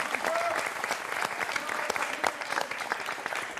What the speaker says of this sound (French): qu'on va applaudir très fort, Quentin